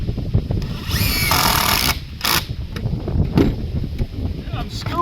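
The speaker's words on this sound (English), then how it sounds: "I'm screwing it because it pulls it together" A power drill drives screws into timber on a gazebo build with a smoke-hole chimney, a whirring burst of about a second, then shorter bursts, amid knocking and people talking nearby.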